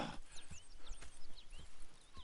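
In Red Dead Redemption 2, hooves clip-clop steadily on hard ground as a horse walks, with soft snorting and faint birdsong in the background.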